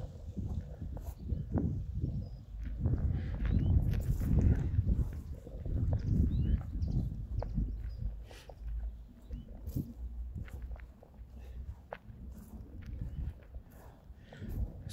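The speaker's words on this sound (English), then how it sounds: "Now, I'm sorry about the wind." Wind buffets an unshielded microphone outdoors in the gardens of Kenilworth Castle, Warwickshire, giving a continuous low rumble with gusty swells and occasional small knocks, fairly close and with no talk.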